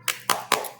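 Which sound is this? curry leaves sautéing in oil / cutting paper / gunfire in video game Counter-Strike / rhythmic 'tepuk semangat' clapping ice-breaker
rhythmic 'tepuk semangat' clapping ice-breaker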